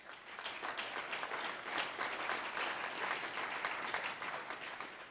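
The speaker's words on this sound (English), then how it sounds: "Go ahead, you can clap." A crowd at a political endorsement event for a Utah Senate candidate claps together in a steady, dense wash of hands that swells after the first moment and holds level, fairly quiet and distant, with no voices over it.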